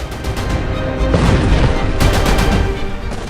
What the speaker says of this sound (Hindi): दमिश्क के धमाकों से थर्रा उठा है